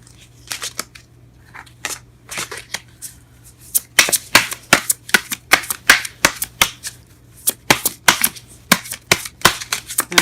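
A deck of tarot cards is shuffled and drawn, with many cards spilling out. Sparse crisp clicks build into a rapid run of loud, close snapping and flicking, with no talk.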